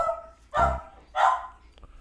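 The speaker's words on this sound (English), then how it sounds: "That's my dog." A dog gives two loud, separate barks about half a second apart, then a soft whimper near the end. There is no talking.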